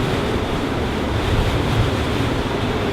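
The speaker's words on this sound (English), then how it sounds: "Look how windy it is." Strong wind gusting hard outdoors, a steady loud broadband roar buffeting the microphone throughout with no voices.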